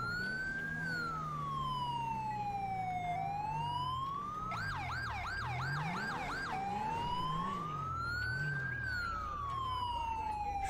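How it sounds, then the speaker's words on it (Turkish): Police car siren in GTA 5 wails steadily up and down, switching briefly to a rapid yelp before returning to the long wail, loud and continuous over a low engine rumble. "Şu sireni bir kapatayım da."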